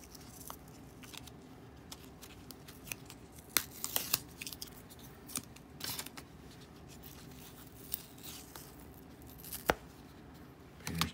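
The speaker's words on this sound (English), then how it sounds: "I forgot to take the tape off of these, so we'll do that quickly right now" Painter's tape being peeled off vintage PC parts, heard as faint, intermittent tearing and crackling strips with small clicks, close and quiet with no talking.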